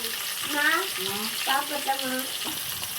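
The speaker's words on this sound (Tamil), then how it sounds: "இதில் வந்து வெங்காயம், பச்சை மிளகா சேர்த்துடலாம்." Onions and green chillies fry in a tempering, a soft continuous sizzle under a person talking nearby.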